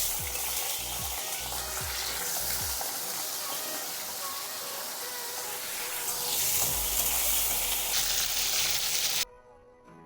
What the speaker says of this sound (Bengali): আলু কটা একটু ভেজে নিচ্ছি